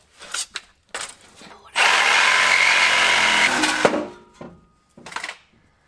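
A power tool cuts through a brake line under a 24-year-old Chevy Silverado truck, a loud, steady whine lasting about two seconds, with brief voices and clatter before and after it.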